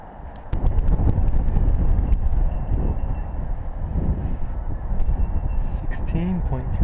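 Heavy wind buffets the microphone while a delta kite is flown in high wind, a loud, constant low roar with gusty surges and a few faint tonal chirps near the end.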